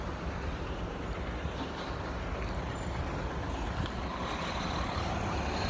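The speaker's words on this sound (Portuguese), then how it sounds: "Caminhão ali bonitão, parou bem no meio da faixa de pedestre." A large truck halted at a pedestrian crossing on a street in Fukuroi, Japan, gives off a steady, loud engine rumble with continuous traffic noise around it.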